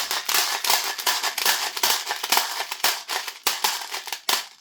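A handheld spool loader pushes BBs into a Lancer airsoft magazine with a quick series of sharp, crunchy ratcheting bursts, roughly a dozen close clicks in an uneven rhythm.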